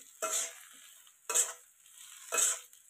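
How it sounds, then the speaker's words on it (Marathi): Masala-stuffed brinjals hit hot oil in an iron kadhai, producing three short bursts of sizzling as they are stirred and turned, each dying back to a quiet hiss. "त्याच्यामध्ये वांगी टाकून घेऊ. मसाला भरलेली"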